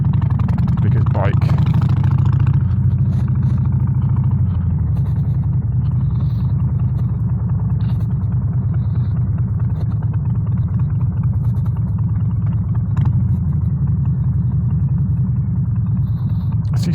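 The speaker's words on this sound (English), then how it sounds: "We're going to skip ahead of all this traffic because I can." Loud, continuous low engine rumble from a motorcycle filtering through road traffic on the way to work, with the rider talking over it throughout.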